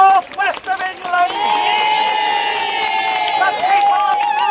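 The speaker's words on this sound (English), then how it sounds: "Give yourself a round of applause." A crowd in Standish, Wigan, cheers and whoops in long, sustained, high voices that swell and hold. No clear clapping stands out.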